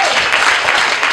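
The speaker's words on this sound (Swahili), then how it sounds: "Pigia Yesu makofi" A church congregation claps together at a deliverance and prophecy conference, producing a dense, steady burst of hand clapping that fills the room for a brief moment with no voices over it.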